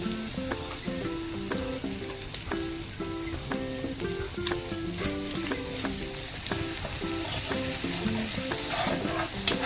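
Ginger paste fries in a pan with a dense, crackling sizzle, steady and close throughout, with rhythmic spatula clinks over the hiss and no talking.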